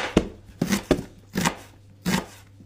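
A knife chops through an onion on a board in five sharp, close strokes at an uneven rhythm, each a crisp thud with brief pauses between.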